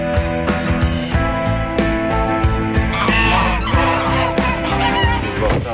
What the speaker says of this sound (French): Ça, c'est pas des canards, ça. C'est des jarres.